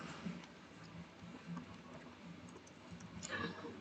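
Someone types a message on a computer keyboard into a website contact form, producing soft, faint, irregular key clicks against a quiet background hiss.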